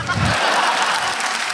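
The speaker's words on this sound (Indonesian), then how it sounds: "Boleh tepuk tangan dong buat mas-mas ini" Audience applause for stand-up comedy finalists at a live roast event, a broad wash of clapping with crowd murmur and a brief low rumble at the start, steady and moderately loud throughout.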